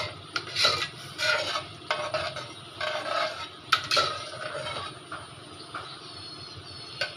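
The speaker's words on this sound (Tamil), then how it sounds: "1 கப் அரிசிக்கு 2 கப் தேங்காய் பால். இதை நல்லா மிக்ஸ் பண்ணிடலாம்." Rice is stirred together with coconut milk in a pot, giving repeated soft scraping and swishing strokes with light clinks of a spoon, moderately close and unaccompanied by talk.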